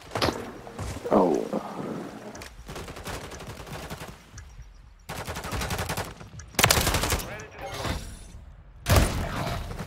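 Rapid gunfire bursts from a Search and Destroy round of a shooter video game, including sniper shots, loud and repeated in several clusters with breaks between, while players talk over it.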